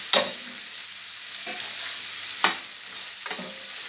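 Fish balls stirred in a pot of turmeric sauce: a low simmering sizzle broken by three or four sharp scraping strokes of the spoon, fairly close and without talk.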